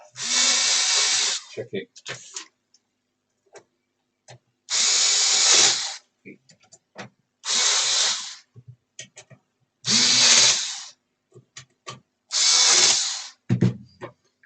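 A power drill driver set to torque 3 whirs in five separate bursts of about a second each during a case swap, loud and close, with short pauses between them and someone speaking briefly.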